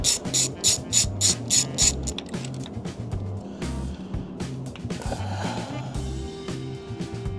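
A ratchet wrench working the spark plugs out of a Suzuki motorcycle engine, soaked with penetrating oil beforehand, making rapid close clicking strokes in bursts, followed by quieter handling and a steady tone near the end.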